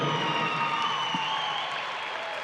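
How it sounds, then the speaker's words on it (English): A room full of people at a Tennessee Walking Horse world championship claps steadily, a dense even patter that holds without rising, no cheering on top. "How about a round of applause?"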